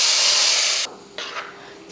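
Hot oil tempering of mustard seeds, onion and curry leaves poured into sambar, a loud, close hissing sizzle for about a second that cuts off sharply, followed by softer, fading sputters.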